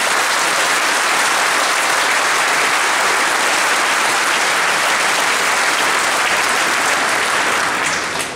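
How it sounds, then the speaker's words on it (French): A large audience at a New Year's greetings ceremony and electoral list presentation in Valence applauds Étienne Blanc with steady, dense clapping that fills the room from start to finish, then tapers off at the very end. "je te demande d'applaudir."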